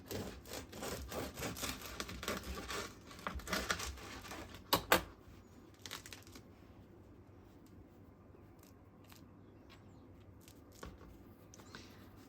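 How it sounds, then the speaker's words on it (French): A knife saws through a freshly baked, still-warm homemade bread loaf with a crisp crust, making a run of close rasping strokes that grow quieter and sparser partway through, with no talk. "On va tout de suite vérifier à la découpe si l'intérieur est bien cuit."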